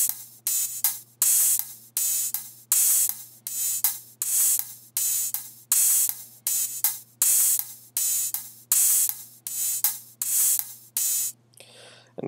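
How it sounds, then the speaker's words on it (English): A looped pattern of layered hi-hat samples, consolidated into one loop with OTT compression and the low end cut for a heavy future bass track, repeating bright hissing bursts in a steady groove before a brief tail at the end. "the next sound I have is these hi-hats that I just took a bunch of random samples of"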